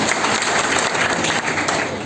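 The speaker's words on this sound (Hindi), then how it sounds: "एक बार मैडम के लिए जोरदार ताली बजाइए" An audience at a marketing event breaks into loud, dense applause, a steady wash of clapping that carries through without a break.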